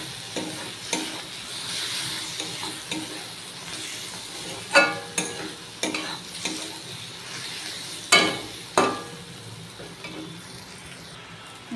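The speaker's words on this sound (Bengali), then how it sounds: "এবার পেঁয়াজটার সাথে কষিয়ে নেবো মশলাগুলো" Spices cooking down with onion in a pan for a home egg curry, a steady soft frying hiss broken by a few clear scraping stirs of a spoon, close by with no talking.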